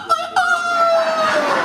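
A rooster crows, a short vigorous call with a strained rising tone that trails off over about a second and a half, close and loud with some background murmur.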